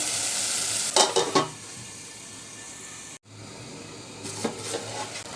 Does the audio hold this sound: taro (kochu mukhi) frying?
yes